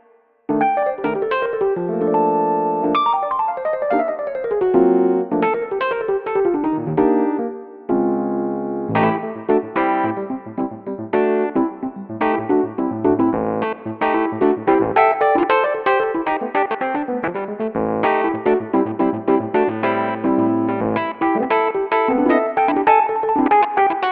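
A Rhodes-style electric piano sample on a Roland Integra-7 synthesizer, warm and bell-like, plays chords and runs, with some effects coloring it, continuous and close, no speech.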